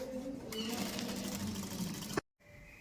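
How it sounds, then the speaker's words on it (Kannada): A sewing machine runs steadily while stitching the folded end of a kurta sleeve, a continuous close mechanical whir that stops abruptly near the end, leaving a brief silence. "ಎಂಡಲ್ಲಿ ಒಂಚೂರು ಈ ರೀತಿ ಮಡಚಿ ಸ್ಟಿಚ್ ಮಾಡ್ಕೊಳ್ಳಿ ಆ ಎಂಡ್ವರೆಗೂ"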